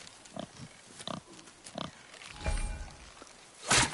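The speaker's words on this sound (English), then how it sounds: "Wild boar's hide is thick." Wild boar in the God of War video game grunts in a few short, low snorts spread across the moment, fairly close, ending in a louder burst, with no talk over it.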